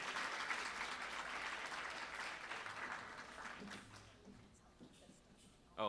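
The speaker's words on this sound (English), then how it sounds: "Ladies and gentlemen, another round of applause for our 2018 honoree, Janet Yu." A dense wash of audience applause at a library foundation gala honoring an award recipient, steady and fairly distant, thinning out toward the end as a few voices emerge.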